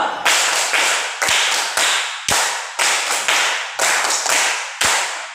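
Ten loud, crisp hand claps in an even, steady rhythm, grouped as two runs of five, each clap ringing out with a bright, echoing tail in an indoor space, no voices.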